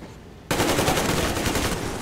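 Sustained automatic gunfire in the post-apocalyptic shooter Metro Exodus, bursting in abruptly after a quiet moment and continuing as a loud, dense, rapid rattle until the end.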